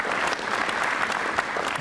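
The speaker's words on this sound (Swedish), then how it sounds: "Jag tycker att han är värd en extra applåd för det" Studio audience at a Swedish TV game show giving a contestant an extra round of applause, a continuous, even burst of many hands clapping with no talk over it.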